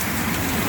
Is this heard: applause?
no